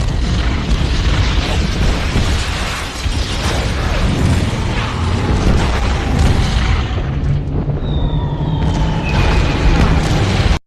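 Explosions and gunfire from a World War II film fill the soundtrack in a loud, continuous barrage of booms and bursts, ending in a few high whistling streaks before cutting off abruptly.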